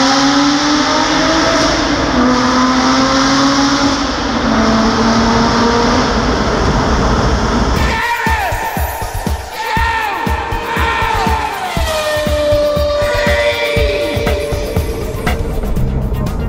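A car's engine echoes as it is driven through a tunnel, a loud, sustained roar with rising and falling revs, harsher and more reverberant partway through.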